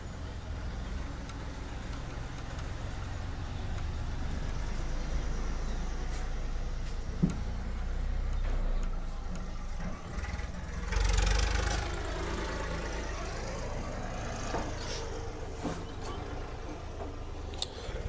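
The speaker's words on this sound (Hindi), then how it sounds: "यहाँ पर थोड़ा हल्ला हो रहा है, ट्रैक्टर चल रहा है।" A tractor engine runs nearby during a maths lesson, a steady low rumbling drone throughout with a brief louder surge partway through, heard alone without talk.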